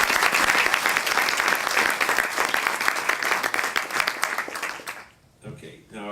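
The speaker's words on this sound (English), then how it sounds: "Round of applause for Michael, please." Applause from the audience at a district attorney debate, a loud, dense wash of many hands clapping for several seconds before abruptly dying away, with a voice starting to speak at the end.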